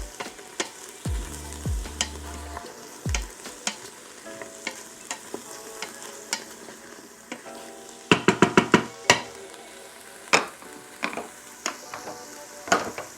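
Aromatics are stirred in a pot on saute mode while cooking red beans and rice, with a steady sizzle, scraping strokes, and clustered knocks of the utensil against the pot near the end.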